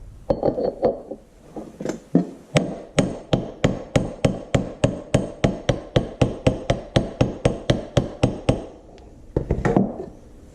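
A hammer taps a part into place during a clutch and PTO primary gear install on an IHC Farmall Super MT tractor. About two dozen sharp metallic strikes come close and steady in an even rhythm, with a few scattered knocks before and after.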